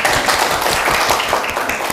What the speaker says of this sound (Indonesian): Baik, berikan tepuk tangan.